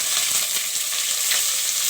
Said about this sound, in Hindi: और ये प्याज जो हमने चॉप करी है ये डालूँगी।